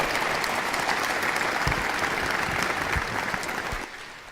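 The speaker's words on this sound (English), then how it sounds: "let's give our panelists a round of applause" A conference audience applauds the panelists at a business forum, full dense clapping that holds steady and then tapers off near the end.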